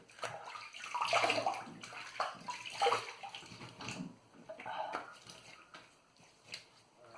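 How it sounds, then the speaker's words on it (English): A shaving brush loaded with Proraso Red soap is rinsed under running water, giving an uneven splashing, gurgling flow that swells and fades over several seconds, close and moderately loud. "Now let's rinse it off."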